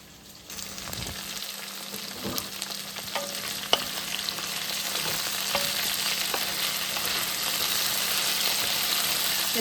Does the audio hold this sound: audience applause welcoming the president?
no